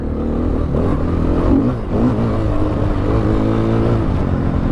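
A 2016 KTM 500 EXC dirt bike engine revs loudly nearby, its pitch climbing and falling in a continuous throaty drone with a brief dip midway, and no voices.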